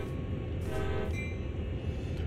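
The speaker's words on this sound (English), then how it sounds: "but first we should honk the horn." A CSX heavy-haul freight locomotive horn in Train Sim World's Sand Patch scenario gives one short, fairly loud blast over a low engine rumble.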